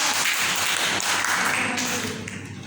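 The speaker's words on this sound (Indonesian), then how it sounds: "tepuk tangan untuk kelompok" A class of students claps for a group of classmates, a short burst of quick, fairly close applause with some distinct individual claps that tapers off at the end.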